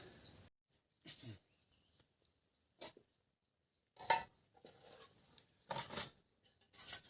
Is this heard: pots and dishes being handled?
yes